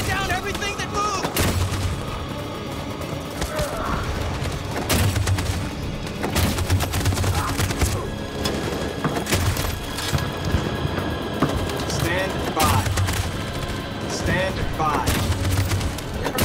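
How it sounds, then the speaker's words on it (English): Machine gun fire in the video game Detroit: Become Human, dense continuous rattling bursts with heavy booms and crackling impacts, loud and close, with voices talking over the gunfire. "That machine gun is taking down everything that moves."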